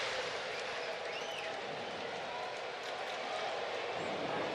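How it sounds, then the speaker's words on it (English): A baseball stadium crowd during an Angels vs Braves game cheers and chants for Rosario, giving a sustained, distant roar of voices with a steady wash of applause over the full length. "the crowd starts chanting Eddie for what he did against the Dodgers in the playoffs last year"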